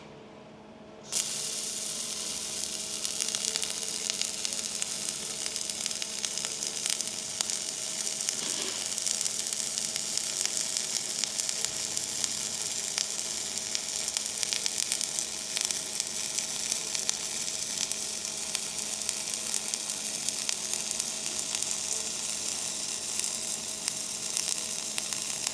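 A welding arc crackles and sizzles steadily as a beginner lays stacked weld passes, the harsh spitting hiss starting abruptly after a brief quiet moment and running continuously, loud and close, over a faint low electrical hum.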